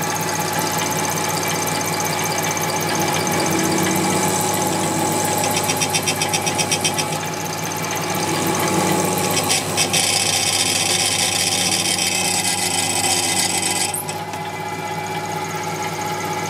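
A Scheppach rotary tool fitted with a drill bit runs at around 1000 RPM, giving a loud, steady motor whine throughout, broken by occasional scraping and rattling bursts.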